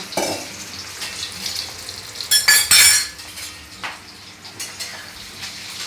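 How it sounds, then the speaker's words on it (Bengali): Prawns hit hot oil with loud bursts of sizzling and spattering, mixed with clinks of a utensil stirring in the pan. "কড়াইতে তেল গরম হয়ে গেছে এবার আমি চিংড়ি মাছটা তুলে দেবো ভাজার জন্য"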